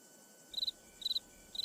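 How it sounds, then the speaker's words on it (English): A lone cricket chirps three times in a steady rhythm, each chirp a short bright trill standing alone against quiet outdoor background hiss. "Gotta love that single cricket with impeccable comedic timing."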